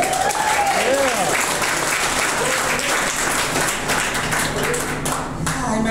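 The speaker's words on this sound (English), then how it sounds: "Give a round of applause for that." An audience applauds steadily at a gathering with several speakers, the dense clapping filling the room at a constant level while a faint tonal voice-like sound threads briefly through the start.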